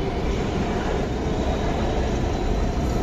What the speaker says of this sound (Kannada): ಲೋಟಸ್ ಟೆಂಪಲಿಂದ ಮೆಟ್ರೋದಲ್ಲಿ ಬಂದಿದ್ದೀವಿ, ಡೆಲ್ಲಿ ಮೆಟ್ರೋ.